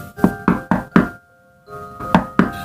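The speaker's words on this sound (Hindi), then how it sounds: "कोई दरवाजा खटखटा रहा था।" Knocking on a door as a horror-story sound effect: two loud groups of three sharp raps, a brief silent pause, then another pair of knocks, close and alone with no voices.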